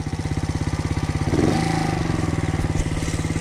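A Skyteam Dax 50cc motorbike engine, a 2020 black edition with injection, runs close by with a steady pulsing putter that briefly rises in pitch as it revs, then settles back to a rhythmic idle.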